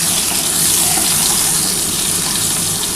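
An egg fries lightly in a pan with a loud, steady, close sizzle like rushing hiss that runs unbroken throughout, with no voices.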